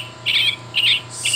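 Western tanager call from a Wild Republic Audubon plush bird toy: three bright, short chirping bursts, fairly close and clear, with no talking.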